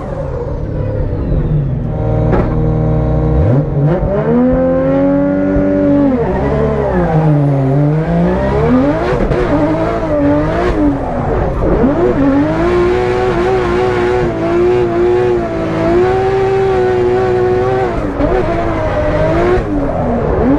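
A JZ-engined competition car rips around a Klutch Kickers drift event, its engine loud and close, revving hard in continuous sweeping rises and falls with no break for the whole stretch.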